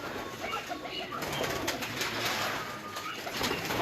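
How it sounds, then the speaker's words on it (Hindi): Breeder pigeons on a rooftop loft cooing together, a soft continuous murmur of overlapping coos close by, with a steady background hiss and no talk. "उस्ताद मंसूर के जोड़ों वाले कबूतर हैं सर, ब्रीडर कबूतर हैं सारे"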